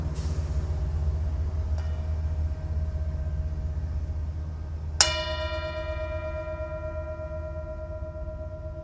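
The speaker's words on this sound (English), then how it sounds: "Enjoy the sound of the train coming by." A Norfolk Southern train passes outside a window as a steady low rumble. Partway through, a single clear bell is struck nearby and rings with a long, slowly fading tone over the rumble.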